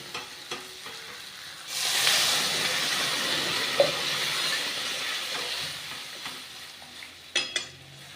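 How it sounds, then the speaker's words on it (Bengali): Hot water poured into a simmering curry of rohu fish, potato and eggplant with cumin paste, bursting into a loud hissing sizzle that rises sharply and holds steadily for several seconds, with a few clatters near the end. "এবারে আমি গরম জলটা দিয়ে দেবো"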